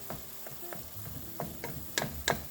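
Minced garlic is stirred into browned, simmering meat in a single pot of low-carb chili: soft spoon scrapes and clacks over a quiet, steady sizzle, with a few sharper knocks near the end.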